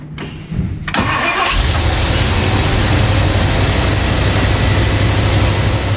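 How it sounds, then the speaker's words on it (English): A 1964 Ford Thunderbird engine cranks briefly, catches, and settles into a steady, loud running rumble close by. "when I start the engine"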